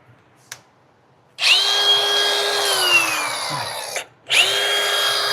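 A Milwaukee power tool cuts off overly long bolts on a 2017 Ford F-250 during an air bag install, giving a loud whining cut that runs about two and a half seconds, pauses briefly, then starts again.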